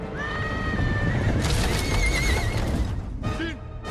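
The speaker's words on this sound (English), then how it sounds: "Shoot the horses! Shoot them!" Horses neigh loudly in a video game, with two long whinnies over a dense, rumbling background of hooves and action, and a shorter neigh near the end.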